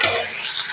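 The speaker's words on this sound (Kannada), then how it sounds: "ಈರುಳ್ಳಿ ಎಲ್ಲ ಫ್ರೈ ಆಗ್ಯಾವು. ಇವಾಗ ಟಮಾಟಿ ಹಾಕ್ಕೊಂಡು" Onions and tomatoes frying in a pan for a potato saagu, a short close burst of sizzling and stirring that softens slightly, with no voices.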